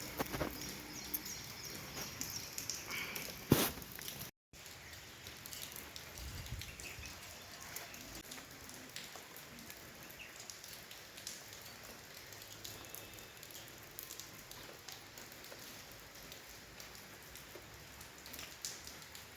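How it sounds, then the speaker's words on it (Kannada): Rain falls outdoors at night, a faint, steady patter of drops that continues evenly throughout with no talking. "ಮಳೆನೂ ಸಿಕ್ಕಾಪಟ್ಟಿ ಐತೆ ನೋಡ್ರಿ"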